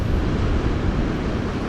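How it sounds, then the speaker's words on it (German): Strong wind sweeps a South Australian coastline, buffeting the microphone with a constant loud roar that blends with the sea, with no talking. "Ziemlich heftig windig."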